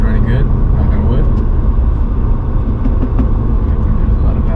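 A manual-swapped Mercedes W124 drives along with a steady low engine and road rumble inside the cabin, loud and continuous, while people talk over it.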